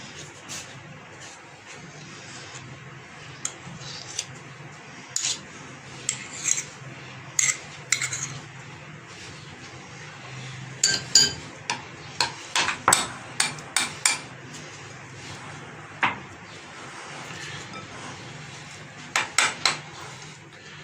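Utensils knock and scrape against a bowl while pizza bread dough is mixed, producing irregular sharp clacks that come in clusters over a low background, close by.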